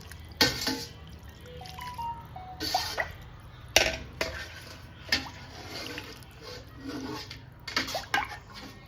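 Betong rice noodles scooped out of a bowl of room-temperature water, with water dripping and splashing back in scattered bursts, close and fairly quiet, no talk.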